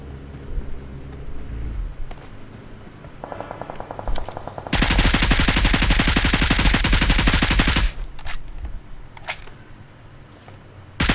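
Gunfire in a battle royale shooter, with scattered single shots, then a long sustained burst of rapid automatic fire that cuts off abruptly, followed by more sporadic distant shots.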